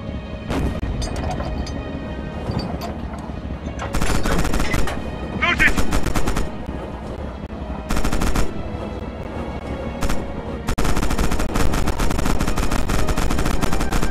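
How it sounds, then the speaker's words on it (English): A tank's coaxial machine gun fires in Red Orchestra 2: Heroes of Stalingrad, loud, close bursts of rapid gunfire separated by short pauses, with a long sustained burst at the end over constant engine rumble. "Open fire with the coax MG on those targets."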